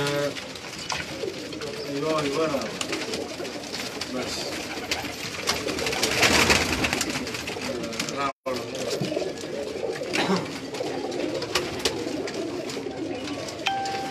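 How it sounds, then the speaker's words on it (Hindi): Female Firozpuri pigeon cooing on a rooftop loft, repeated soft throaty coos over steady background noise, with other birds and faint voices around. "अगर ये टिक जाए ज़रा करीब से दिखा देंगे इस कबूतर को"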